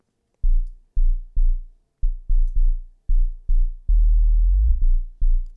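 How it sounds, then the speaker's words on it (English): Synth sub bass playing a log drum line: a string of deep, booming low notes in a syncopated pattern, one held longer with a sliding pitch, close and alone. "So if I play the sub bass, it sounds like this."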